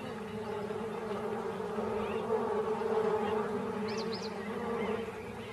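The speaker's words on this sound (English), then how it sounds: "She tries a pit, but finds it full of bees." Bees swarm and buzz around a water pit in hot African bush country, a steady close insect drone that holds throughout, with a low hum underneath and a few brief higher chirps near the end.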